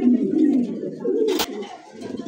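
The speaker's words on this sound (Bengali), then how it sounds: "হ্যাঁ টপ কোয়ালিটির একটা কবুতর ভাই" Lahori pigeons coo softly nearby in a pair of low throaty calls, broken by one sharp click midway through the short burst.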